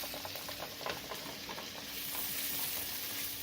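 Shallots, leeks and a bay leaf sauté in the leftover pan drippings, giving a steady, close sizzle with faint stirring scrapes throughout.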